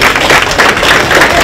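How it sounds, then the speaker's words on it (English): Audience applause for Councilman Hakeem Jones at a 2019 MLK Day Young Scholars program in Norristown: steady, dense clapping that holds loud and even throughout. "Let's give a round of applause for him."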